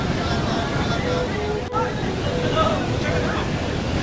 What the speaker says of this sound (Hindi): ये झरना हम अब बिल्कुल पास से आपको दिखा रहे हैं।